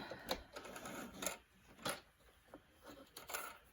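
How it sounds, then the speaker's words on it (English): A sewing machine back stitching a fabric ruffle strip, heard close up as short, uneven mechanical bursts with brief pauses between them. "And then I usually back stitch a couple, but again, you don't have to."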